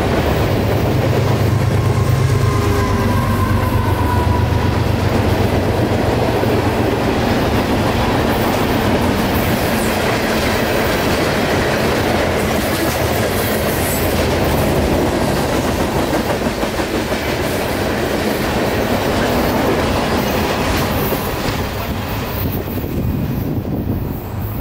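A freight train locomotive rolls past on the S-Line, a loud, continuous rumble with clickety-clack wheel noise and faint squeal that stays steady up close for the whole stretch, no voices over it.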